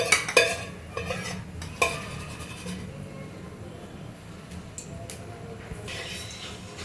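Ghee and cumin seeds tempering in a pan for brinjal thambuli, a quiet continuous sizzle with a few sharp spoon scrapes and clinks near the start.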